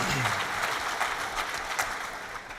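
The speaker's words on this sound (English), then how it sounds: "let's give them a big round of applause to our semi-finalists" An audience at a global student business competition final in London applauds the semi-finalists, loud dense clapping that fills the space and tapers slightly toward the end.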